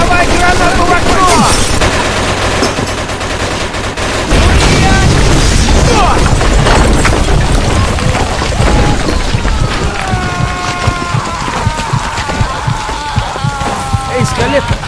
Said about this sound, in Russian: Давай гранату в окно!